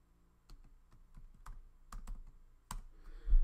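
Scattered keystrokes on a computer keyboard, close and distinct, tapping out a short word in uneven bursts with a few sharper strikes, no voices present.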